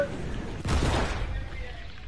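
A cannon fires in a video game, one broad booming blast midway through, with excited gamer chatter faintly around it.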